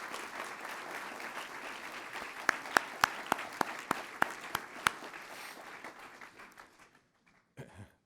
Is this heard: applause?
yes